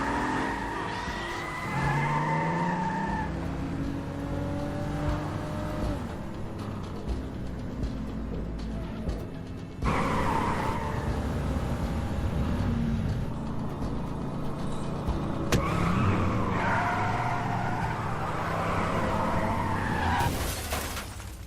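Car speeding away with skidding, screeching tires in a police pursuit scene, engine roar and tire noise rising and falling over about twenty seconds, with sharp crashes and impacts in between.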